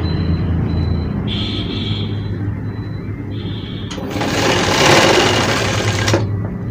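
Sewing machine stitching a two-year-old child's waistcoat, a steady close mechanical whir with a brief faster burst of louder running near the end.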